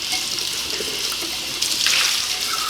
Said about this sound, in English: So I'm gonna clean this, clean the coffee pot.